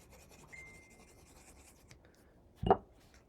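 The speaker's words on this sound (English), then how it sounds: "fold and burnish" Paper fold burnished flat for a scrapbook mini album: mostly quiet, then a single short, close rubbing swipe near the end.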